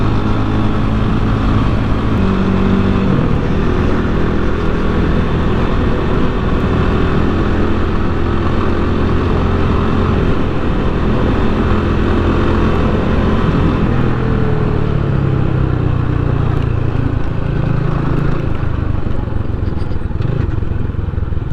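A Rusi Classic 250 motorcycle engine runs steadily and loud, with a low droning rumble throughout and slight shifts in pitch, as if idling and revving gently.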